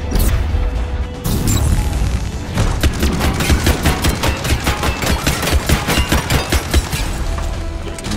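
Rapid bursts of gunfire from the Mass Effect video game, a loud run of sharp, evenly spaced shots that builds into sustained automatic fire after an opening crash, with no talk over it.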